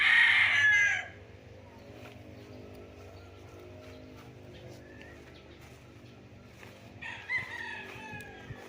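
A rooster crows loudly and close by at chicken coops on a farm in Nagcarlan, Laguna; the single crow opens the scene, then quiet outdoor ambience follows with faint clucking and bird sounds later.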